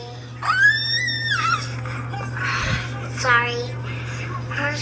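A small girl screams and wails in a home phone-video message, high piercing cries rising and falling in bursts over a steady electrical hum, with an adult voice faintly nearby.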